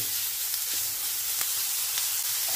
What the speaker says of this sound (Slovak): rozpališ panvicu a dáš slaninu aj s cibulou